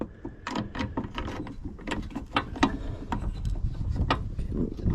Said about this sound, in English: let me get my socket back on here. Make sure we're tightening.